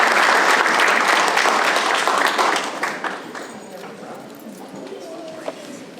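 Applause for CIF champion girls at a San Dimas city council meeting, loud, dense clapping from many hands that fades after a few seconds into room noise and quiet talk.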